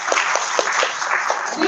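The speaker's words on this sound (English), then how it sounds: "We all get applause just for being here today" A community meeting audience applauds, a fairly loud, busy patter of many hands, while a voice speaks over the clapping.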